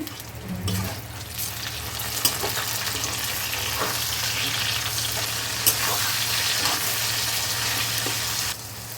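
Spiced masala of coriander and cumin powder with water and tomato sizzles and fries steadily in a pan for a Bengali fish curry, a continuous close hiss with occasional stirring clicks, no talking.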